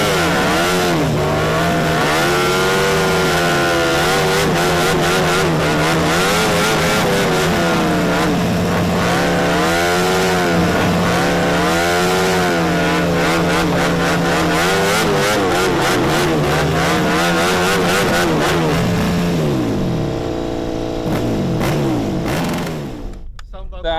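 A KTM motorcycle does a burnout, its engine revving hard and continuously with rising and falling pitch sweeps, loud and close for the whole stretch before cutting off at the end, with voices partly under the roar.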